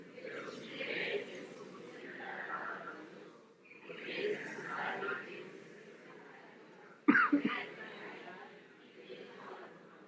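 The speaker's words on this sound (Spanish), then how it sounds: "me va a dar tos" A person gives one abrupt, close cough after a stretch of soft murmured speech, followed by a brief rasp as it fades.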